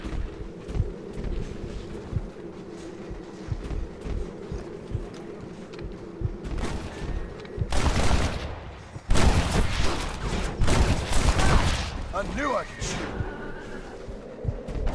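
Gunfire in the Western game Red Dead Redemption, bursts of shots cracking loudly over a rumbling moving ride, with sharp volleys clustered in the middle and later part amid clattering action sounds.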